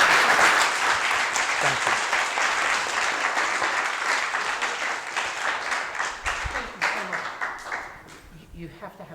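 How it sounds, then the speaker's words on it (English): An audience applauds after a talk, sustained clapping that starts loud and gradually thins and fades toward the end as a voice speaks briefly. "Let's give him a round of applause."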